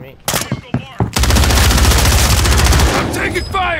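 Gunfire in Call of Duty: Warzone, a few sharp single shots followed by a long loud rattle of rapid automatic fire, with voices speaking briefly at the start and end.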